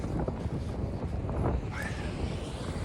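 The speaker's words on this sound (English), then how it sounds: "it's proper windy." Strong wind buffets the microphone outdoors during a run, with a steady low rumble and gusty roar, no voices present.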